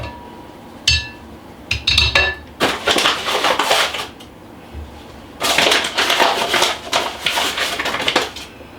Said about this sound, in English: So I'm going to go with 3 cups of flour.